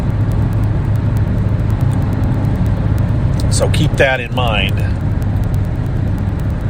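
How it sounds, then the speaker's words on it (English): Road traffic heard from inside a car being driven on a rainy day, a steady loud drone of engine and tyre noise throughout, with a brief spoken phrase partway through. "Sorry, traffic again."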